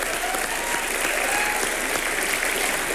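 Steady, dense applause from a large studio audience at a Hindi comedy talk show, continuous and fairly loud with no voices over it.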